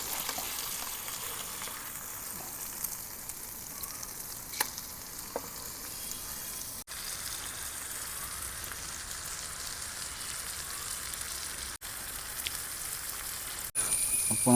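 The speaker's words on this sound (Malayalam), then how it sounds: "ആ പച്ച മസാല ഇങ്ങനെ വേവുമ്പോൾ ഇങ്ങനെ സ്ലോ കുക്കാട്ടോ ചെയ്യേണ്ടത്." A big sole fish fries slowly over low heat in green kanthari masala, giving a steady, close sizzle that runs throughout with a few faint clinks.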